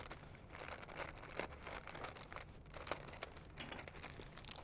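A cake mix packet is crinkled and torn open, likely with scissors, giving a quiet, continuous run of papery rustling and crackling with no talk.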